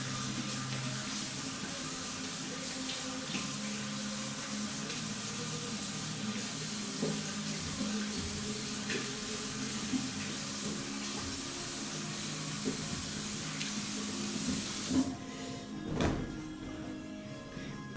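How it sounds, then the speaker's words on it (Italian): Tap water runs continuously into a bathroom sink for rinsing the face after a shave, a steady close hiss and splash with small clinks, ending in a brief louder splash near the end. "Andiamo a sciacquare con acqua fresca"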